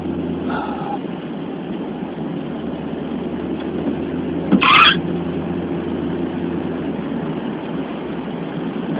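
A car engine hums steadily from inside the cabin during a drive through rural grassland, a low continuous drone with one brief click partway through.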